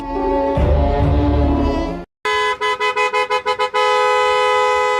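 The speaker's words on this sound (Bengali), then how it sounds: "এই গভীর রাতে গাড়ির হর্নের আওয়াজ আসতেছে কোথা থেকে?" A long, loud car horn blast, a brief pause, then a rapid series of short honks ending in another sustained blare.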